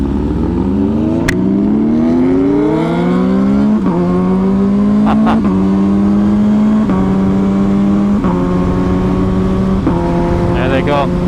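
Suzuki GSX-R1000 inline-four with an SC Project exhaust revving loudly in a series of rising pulls, each climb in pitch cut by a sharp drop, the engine note dominating throughout.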